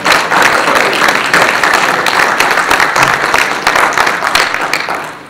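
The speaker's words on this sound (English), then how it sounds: "So I think that deserves a round of applause" Loud, dense audience applause fills a book talk hall, a continuous crackle of many hands clapping that stays strong throughout before easing slightly at the end.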